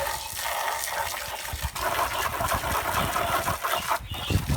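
A garden hose sprays water over budgie cage items and accessories, a loud, continuous gushing and splashing close by with small surges in the flow.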